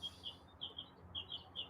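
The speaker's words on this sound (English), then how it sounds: "you can hear the birds are extremely loud this morning" Small birds chirp in quick, repeated high tweets, faint and a little distant, over a low steady background hum.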